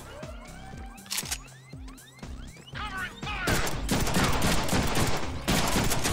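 Gunfire erupts in the Deadpool video game with rapid repeated shots and sweeping electronic tones, building into loud sustained fusillades with crashes, all close and intense.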